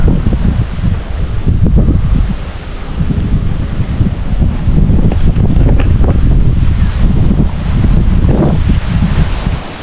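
Strong, loud wind buffets the microphone in steady gusts, a continuous low roar with rustling for the full stretch.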